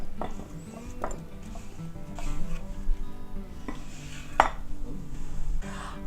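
Roasted potatoes tipped and scraped from a pan into a bowl, with a string of clinks, scrapes and knocks of utensil on metal and bowl and one louder clatter near the end, close by with no voices.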